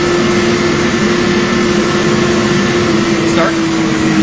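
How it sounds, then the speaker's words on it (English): A car engine drones steadily as the vehicle slows down, a loud, close, continuous hum with a constant low tone throughout. "You'll hear the engine change as he starts to slow down"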